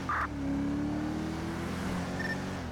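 Car engine in a police role-play video game, a sustained steady drone at cruising speed, loud and close, with a brief high beep near the start and no talk.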